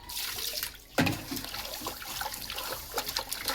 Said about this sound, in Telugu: మళ్ళీ ఒక్కసారి దీనిలో నీళ్ళు ఇట్లా పోసుకొని